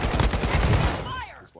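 Rapid automatic gunfire in the mobile shooter Warzone Mobile or Call of Duty Mobile, a loud, fast burst of shots for about a second that then cuts off, with a voice briefly heard at the end.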